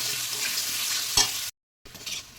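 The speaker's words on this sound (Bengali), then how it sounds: "তো প্রথমে আলুটা ভাজবো।" Potatoes fry in oil with a steady broadband sizzle and occasional stirring scrapes, briefly cutting out to silence before the hiss resumes.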